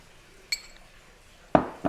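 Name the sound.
spoon clinking against a glass while mixing a drink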